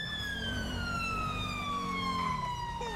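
A UK police car siren in Grand Theft Auto wails loud and near, its tone sweeping slowly downward over a continuous engine rumble.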